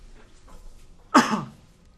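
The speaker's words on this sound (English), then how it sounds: "I was just coughing." A single short cough or throat-clear, sharp and close, following a few soft, faint sounds.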